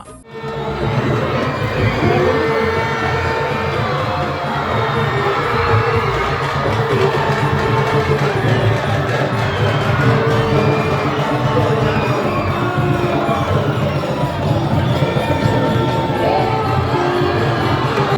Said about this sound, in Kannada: ಅಭಿಮಾನಿಗಳಿಂದ ಕೇಕೆ, ಶಿಳ್ಳೆ, ಚಪ್ಪಾಳೆಗಳ ಕರತಾಡನ